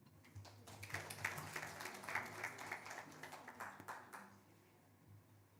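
An audience applauds at a gender-equality bell-ringing event, a dense burst of clapping that swells quickly, holds steady for several seconds, then thins and fades away.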